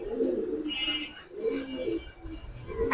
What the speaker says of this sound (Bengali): ফুল পাথর চোখের কবুতর।